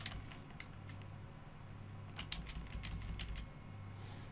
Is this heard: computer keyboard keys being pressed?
yes